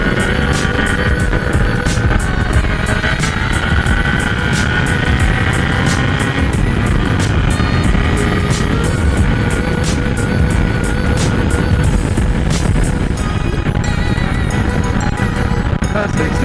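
Steady engine roar from a group of about 13 motorbikes riding together at moderate speed, a continuous loud rumble with shifting revs and constant wind rush.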